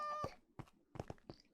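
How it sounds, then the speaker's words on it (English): Short in-game cat meows from Minecraft survival play, a few brief calls spaced apart at moderate volume with no talking over them. "Oh, I got 2 cats in here now."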